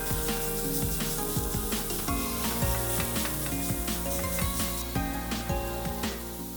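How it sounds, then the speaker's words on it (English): Pork and shrimp searing in a hot pan for Vietnamese bánh xèo, a steady dense sizzle with crackles and scraping of a utensil running throughout at moderate loudness. "Finally, let's sear that meat."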